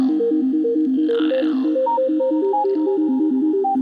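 A pure sine-wave synth tone, clean and hollow, steps through a quick repeating melody of short notes, loud and steady, with a faint swooping sound partway through and no voices.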